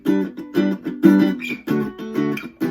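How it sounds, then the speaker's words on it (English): An acoustic guitar strums the full rhythm part of a song, with steady, punchy chord hits in a repeating groove, played alone and close. "And all together, the guitar part here sounds like this."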